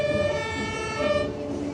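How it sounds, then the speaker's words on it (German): Emergency vehicle sirens wail on an evening street in Hamburg during the Cruise Days fireworks parade, a steady tonal howl held fairly far off and faint over low traffic rumble, with no talking. "Ganz schön viel Tatütata heute Abend."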